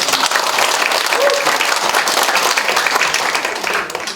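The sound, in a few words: audience applause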